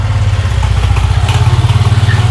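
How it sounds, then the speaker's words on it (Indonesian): A motorcycle passes nearby with a loud, pulsing engine rumble that stays strong and close throughout, alone without talk. "Ada motor lewat."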